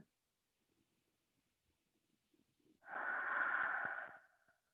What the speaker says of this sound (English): One last breath. Inhale. Exhale.